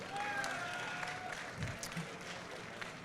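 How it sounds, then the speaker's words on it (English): Audience applause for the winning team at a League of Legends esports match at the EGX 2014 gaming expo, a soft, fairly distant patter of clapping with faint voices mixed in. "Give them a round of applause."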